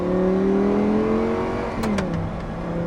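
Audi R8 V10 supercar with gated manual, roof up and rear window lowered, its engine droning loudly and steadily from inside the cabin, pitch holding then dropping as revs fall, with a couple of brief clicks near the end.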